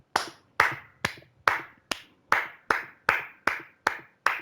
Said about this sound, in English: Just for that, I'm gonna give you a clap.